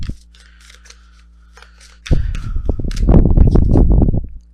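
Tarot cards being handled and shuffled: light flicks and rustles at first, then a loud, dense flurry of riffling card noise up close for about two seconds.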